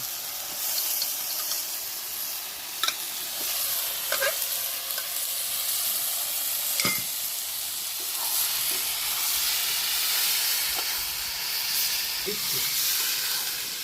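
Jackfruit and potato pieces sauté in hot oil for a vegetarian jackfruit dish, giving a steady close sizzle and hiss with occasional spatters, stirring scrapes and clinks. No one speaks.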